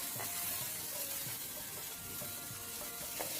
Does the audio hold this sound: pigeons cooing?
no